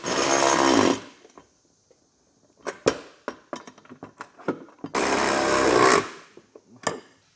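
Power tool driving a 9/16 socket onto base plate bolts on a 2023 Jeep Gladiator. Two loud, sustained whirring runs about a second each, with scattered clanks and taps between them.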